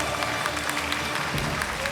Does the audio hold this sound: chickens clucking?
no